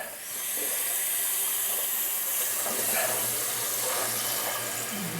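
Water rushes steadily into a toilet tank as it refills after the supply is turned on, a continuous close hiss with faint gurgles throughout.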